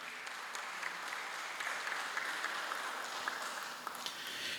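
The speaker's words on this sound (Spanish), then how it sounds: "que bien merece que le demos un fuerte aplauso" An audience at an academic experience-exchange conference of the Universidad de San Carlos de Guatemala gives a strong round of applause. Dense, even clapping holds steady for several seconds and is slightly distant.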